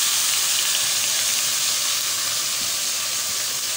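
Tomato paste hits frying onions in a pan for village-style baingan bharta, giving a loud, steady broadband sizzle and hiss that carries on evenly without pause.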